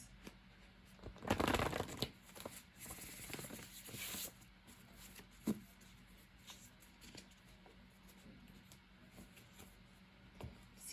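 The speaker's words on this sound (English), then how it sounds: "I'm gonna draw one of these handwritten oracle cards." A deck of handwritten oracle cards shuffled and drawn at close range, a brief riffling burst followed by softer intermittent card rustles and taps in a quiet room.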